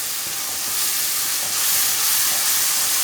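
Spiced yogurt hitting a hot pan of okra and tomatoes, giving a steady broad sizzle and hiss that swells slightly partway through, close and continuous with no talking.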